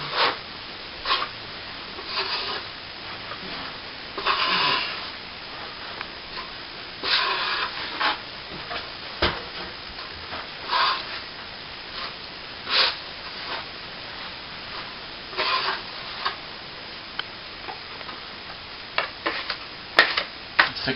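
Steel trowel light-floating plaster across a plasterboard ceiling repair where a vent was removed, giving repeated soft scraping and rubbing strokes in uneven bursts, close and fairly quiet, with no talking.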